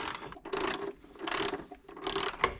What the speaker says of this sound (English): So I'm gonna take my 13mm and tighten all of the brackets first